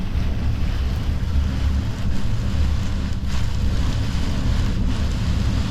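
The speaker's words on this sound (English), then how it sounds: "We knew it was coming, but the wind is pretty intense." Strong wind roars across the coast with heavy waves churning beneath it, a loud, unbroken rumble with gusty buffeting against the microphone throughout.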